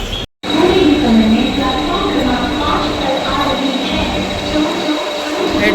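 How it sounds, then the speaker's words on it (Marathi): Steady rumble of a Vande Bharat passenger train at Thane station platform, with a continuous mechanical drone and faint squeals, voices murmuring in the background. "ठाणे स्टेशन आहे ही वंदे भारत ट्रेन आहे"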